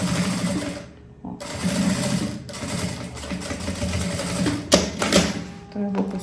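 A sewing machine stitches a handmade bag with a close, continuous mechanical whir that briefly pauses and restarts, with a voice speaking faintly alongside.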